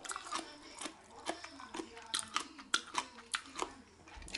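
Homemade sauerkraut of fermented cabbage is crunched up close, with repeated crisp, wet chewing bites in an irregular rhythm, fairly quiet and with no talking over it.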